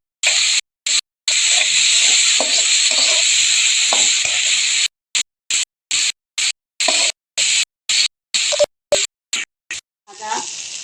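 Dried shrimp fry in a pan with a bright, steady hiss and sizzle, cut by repeated short gaps so the sound comes in choppy bursts, with faint stirring beneath.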